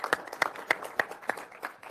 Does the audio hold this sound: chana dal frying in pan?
no